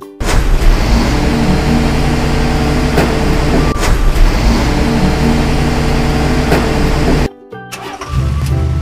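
A garbage truck from a toy street-vehicle animation runs with a loud, steady diesel-like engine drone and periodic clanks, then briefly drops out before the rumble resumes.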